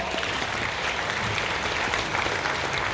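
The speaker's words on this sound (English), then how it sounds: "Please, another round of applause for our" A crowd at the official opening of a conference in Accra, Ghana, gives the chairperson a dense, steady round of applause that fills the space evenly for its full length, with no gaps or single claps standing out.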